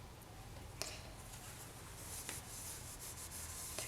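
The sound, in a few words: burnishing polymer clay pendant with cloth and Renaissance wax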